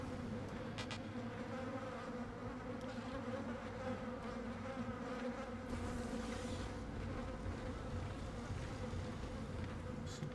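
Flies in the Dead Space video game buzz as a dense, continuous drone that fills the whole stretch at a steady level, close and unbroken, with no voices over it.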